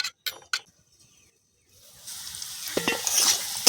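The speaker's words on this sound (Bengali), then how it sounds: "আলুটা খুলে বারে বারে কিন্তু নাড়তে হবে যাতে পুড়ে না যায়।" Potatoes frying in a pan for a cauliflower-potato curry, stirred often: a few sharp scrapes, a quiet pause, then a rising steady sizzle with clinking stirs.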